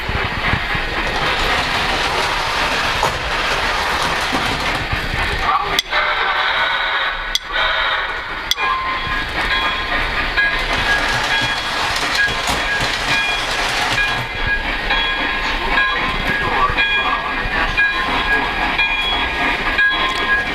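A Polar Express model railroad train runs continuously, giving a steady rumbling, whirring drone with occasional clicks and a faint high tonal whine, and no voices.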